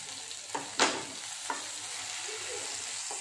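Stuffed okra (bharma bhindi) sizzles steadily in a pan as it is stirred and turned, with a few sharp scraping clicks of the spatula over the continuous close frying hiss.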